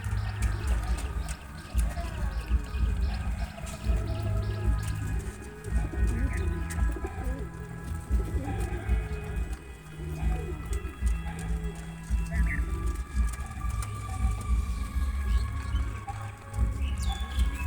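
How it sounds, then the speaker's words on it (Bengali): Pigeons from the Pakistani border region coo close by in a loft, with repeated low, rolling calls in steady overlapping bursts against faint background clatter and other birds. "পাকিস্তানি বর্ডারের কবুতর।"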